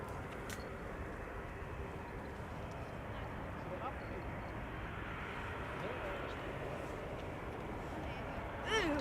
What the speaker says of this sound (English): E2 Embraer 195 is arriving from Brussels